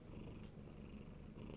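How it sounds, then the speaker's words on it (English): Soft, steady purring from a cat, close and quiet, a continuous low rumble with no other sounds. "pet the cat a little, so it starts purring again"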